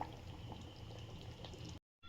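Taro leaf curry bubbles in a pot with a steady, soft, close simmer that cuts off abruptly near the end.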